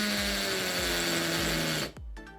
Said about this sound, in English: I put the hammer drill and there's a cup on the end of that